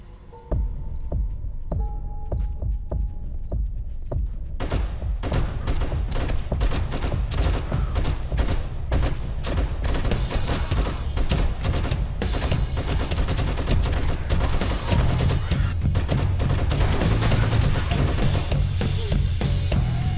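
Gunfire during horde night in the video game 7 Days to Die, a relentless stream of loud, rapid shots fired in dense bursts that continue for nearly twenty seconds after a few quiet beeps at the start.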